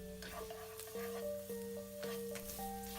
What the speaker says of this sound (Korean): 대파를 넣고 볶아줍니다.